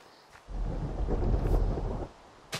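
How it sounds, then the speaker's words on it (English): A rumbling roll of thunder in the video game Minecraft, swelling for about a second and a half then cutting off, followed by a brief crackle, with no talking. "Ooh, thunder!"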